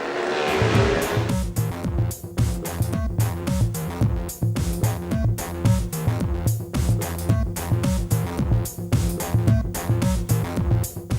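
Racing motorcycles on the Greymouth street race circuit roar past in quick succession, engines revving hard in a dense, pulsing stream of loud, close passes that continues throughout.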